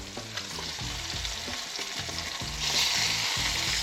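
Fish fillets searing in a hot pan, a loud continuous sizzle and crackle that swells slightly toward the end, with no voices.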